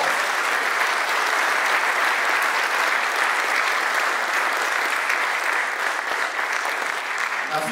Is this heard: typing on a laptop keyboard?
no